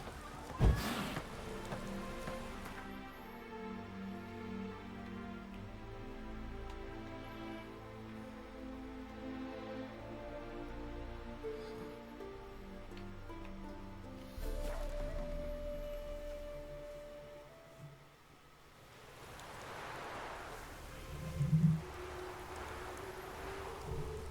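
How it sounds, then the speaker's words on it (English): Rain falls in The Witcher 3: Wild Hunt as a steady soft patter, with tonal game music beneath and a few brief thumps. "Let it rain."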